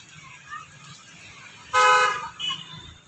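Road traffic with a car horn blaring once for about half a second and a shorter toot after, set against a faint background of passing vehicles, with no talk.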